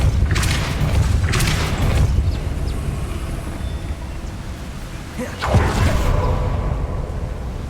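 Depulso force spell cast in the fantasy video game Hogwarts Legacy, heard as a loud booming whoosh with a heavy low rumble, followed by a second strong burst a few seconds later, amid ongoing game noise.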